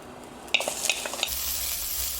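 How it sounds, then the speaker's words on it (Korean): Shrimp hit a preheated pan over medium heat and sizzle loudly, with a few scraping clinks of a utensil stirring, then a steady frying hiss. "그 다음 팬을 예열하고 새우를 먼저 1분간 볶아주랍니다."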